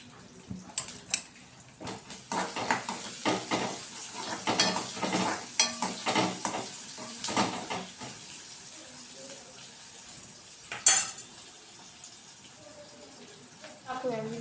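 Onions and curry leaves sizzling in a pan for upma: crackling sizzle under close stirring and scraping clatter, with a voice talking in between.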